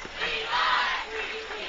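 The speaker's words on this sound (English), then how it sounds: "Crowd started to chant" A high school football crowd in the stands chants together in a broad, distant roar that swells, dips and rises again over a couple of seconds.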